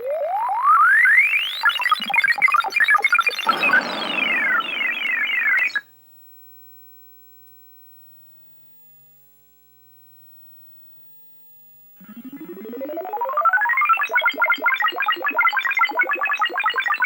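Arcade sound effects from a Nintendo Space Firebird circuit board set on a repair bench: loud rising electronic chirps, laser-like zaps and pulsing beeps, then a long silent gap before the sweeping effects start up again.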